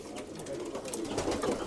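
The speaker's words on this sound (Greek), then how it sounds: "Εδώ βλέπουμε και τα πουλάκια αυτά του Γιάννη, του φίλου μας." Racing pigeons coo softly and continuously at close range, a low burbling murmur from several birds with no talk over it.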